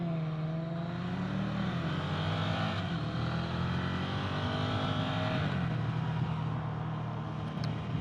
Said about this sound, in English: It likes to rev pretty high for the engine.